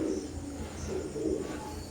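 Teddy pigeons coo at night, soft low repeated cooing calls at a moderate distance over a faint steady background hum.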